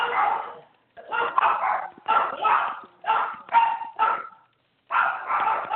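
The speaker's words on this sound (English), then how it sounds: "I hear the dogs barking." Dogs bark repeatedly in bursts of several sharp woofs with short pauses, fairly close and loud, with a few yips mixed in and no talking.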